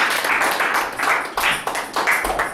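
A church congregation applauds in a dense, loud burst of clapping that swells and eases in uneven waves, close and reverberant, with no distinct speech over it.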